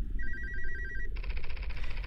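A telephone rings in a horror video game, a fast warbling electronic trill that shifts to a brighter pulsing ring midway, over a deep rumbling drone, no voices.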